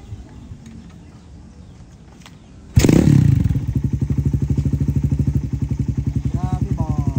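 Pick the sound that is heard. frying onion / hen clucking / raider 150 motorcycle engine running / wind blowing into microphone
raider 150 motorcycle engine running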